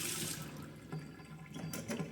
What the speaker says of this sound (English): And the hot water or the boiled water comes out.